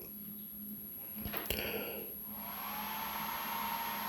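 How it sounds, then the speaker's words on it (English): A hair dryer blows on wet paint on a painting; a click and clunk precede the motor spinning up into a steady, close whooshing roar. "Always with the hairdryer."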